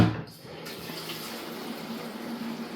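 Tap water runs steadily into a Honeywell Quiet Care humidifier tank as it is rinsed out. The flow splashes continuously and close, with a hollow filling tone, after a brief initial gush.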